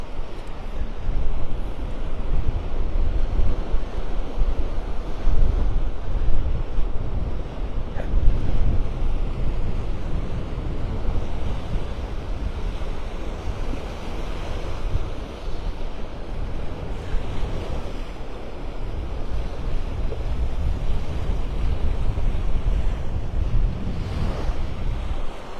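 Wind and breaking surf on a beach walk at Delnor-Wiggins in North Naples, with steady wind buffeting the microphone over a continuous wash of waves, loud and unbroken.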